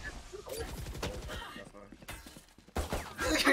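Rapid gunfire crackles in a video game, bursts of shots and impacts mixed with game effects while a player talks excitedly over them.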